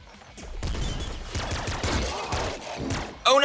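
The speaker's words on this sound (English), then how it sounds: "Okay, my bouncer shotgun." Bouncer shotgun blasts in the top-down game Nuclear Throne, a rapid flurry of punchy shots and bouncing pellet impacts layered over one another, loud and close, with a brief sharper burst at the end.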